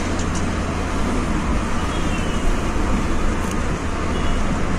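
A car cruises along a road through Pune, heard from inside as a loud, continuous roar of engine and tyre noise that stays constant throughout.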